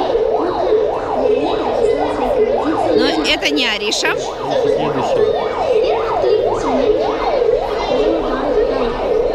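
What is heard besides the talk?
ambulance siren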